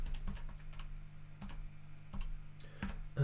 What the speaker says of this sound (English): We type that into a calculator